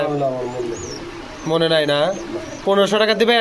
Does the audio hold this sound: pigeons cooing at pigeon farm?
yes